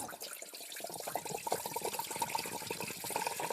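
Coolant water drains steadily from an engine and splashes into an old oil pan below, a continuous gurgling trickle, fairly quiet and close.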